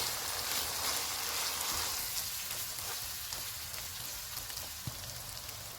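Cumin powder, coriander powder, salt and fenugreek roast in a pan for mash daal keema, giving a steady, even sizzling hiss throughout with one small tick near the end and no voices.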